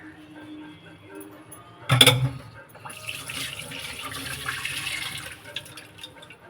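Boiled water is poured into a dish of spice mixture while cooking, starting with a sudden splash and continuing as a softer, uneven trickling pour over several seconds.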